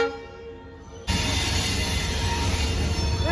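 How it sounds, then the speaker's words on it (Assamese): Train 13182, a superfast express running from Silghat to Kolkata, pulls into a station; after quieter rumbling, a loud surge of rolling wheels and screeching rail noise sets in abruptly and continues steadily. "ফাইনেলি আহি গ'ল ট্ৰেইন নম্বৰ 13182"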